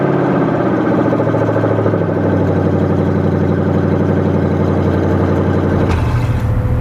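The engine of a 1996 Crown Victoria, fitted with a swapped-in Tremec TR3650 5-speed manual, runs at a steady, loud, close idle for several seconds, and its tone shifts slightly near the end.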